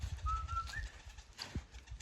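A honeyguide bird calls from a baobab tree in Hadza country, one faint, thin whistled note that rises slightly over a low rumble of background noise.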